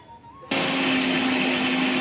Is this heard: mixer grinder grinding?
yes